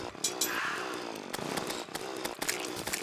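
A chainsaw in the video game Terraria runs continuously with a loud buzzing drone, the motor pitch wavering throughout, heard alone without speech.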